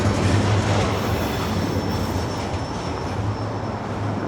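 A long freight train rolls past with a steady rumble of wheels on rails and a faint high metallic squeal.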